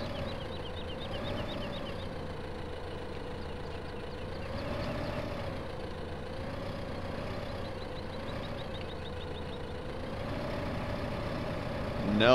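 A tractor engine idles in Farming Simulator 15, a steady mid-pitched drone with a faint wavering rise and fall that runs unbroken and fairly loud throughout, ending in a brief louder burst.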